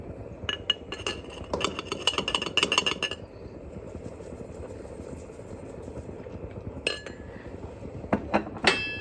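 A spoon clinks against a dish while salsa ingredients are measured by eye, a cluster of bright metallic taps early on and a few more near the end over a steady low background hum.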